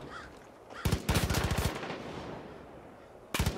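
Rapid bursts of video game gunfire crackle in a short automatic volley, then a pause and another brief burst, sharp and fairly loud against quiet background.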